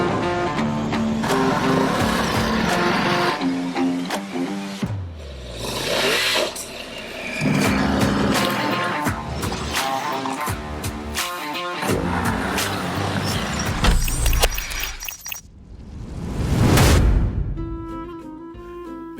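An MV Agusta Enduro Veloce motorcycle rides off-road, its engine revving and surging under loud music, with one close pass-by roaring up and fading near the end.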